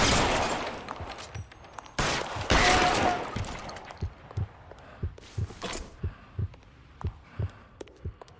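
Gunfire from an LA Noire video game shootout: dense bursts of shots early on, then a steady run of single, evenly spaced thumping shots, loud and close.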